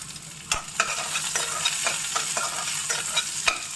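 Onions frying for Tamil beans poriyal with curry leaves and urad dal, stirred so a spoon scrapes the pan in several sharp knocks over a steady close sizzle, with no voices.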